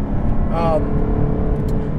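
The big-displacement engine of a 2018 Jaguar F-Type SVR Coupe rumbles steadily nearby, with a brief rise in engine note partway through, while someone talks over it.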